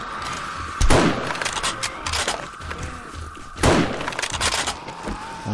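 In the video game 7 Days to Die, an automatic turret fires loud, sharp booming shots. Two big blasts stand out, about three seconds apart, with a rapid, rattling clatter of fire between them and no voices.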